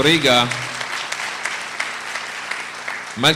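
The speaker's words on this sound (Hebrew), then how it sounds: "מלכי בריגה ראוי לכל מחיאות הכפיים שלכם" Scattered audience clapping at a community club honouring ceremony in Or Yehuda, moderately loud and thinning out, framed by someone speaking at the start and again at the end.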